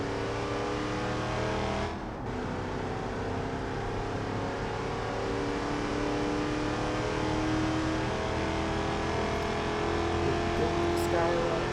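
A muscle car with a four-speed gearbox in BeamNG.drive drones steadily as it accelerates and shifts, engine tones rising and settling, with a voice talking over it throughout.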